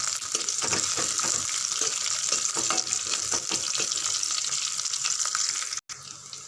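Onions, curry leaves and crushed garlic sizzle in a pan, a dense close hiss with bursts of spattering crackle, cut off briefly near the end.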